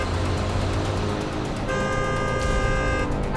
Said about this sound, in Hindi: क्या चाचा, कब से हॉर्न बजा रहा है?